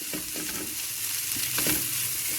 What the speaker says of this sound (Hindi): मायोनीज को भी शामिल करके हमने इसकी अच्छी तरह से यहाँ पे मिक्सिंग करनी है